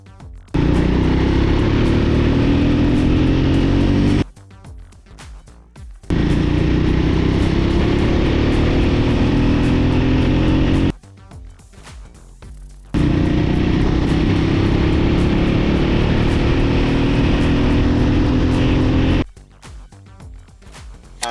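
A Triumph Scrambler 400X motorcycle accelerates hard through its gears in roll-on runs, loud close engine pulls rising in pitch, cut by short silent breaks between three main bursts.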